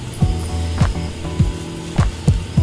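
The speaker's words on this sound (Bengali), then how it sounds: "সবগুলো মশলা আমি ভালোভাবে ছেঁকে নিচ্ছি" Homemade shahi garam masala, freshly blended with ground coriander, is worked through a strainer, giving rhythmic scraping and tapping strokes about every half second, close and fairly loud, with no voices.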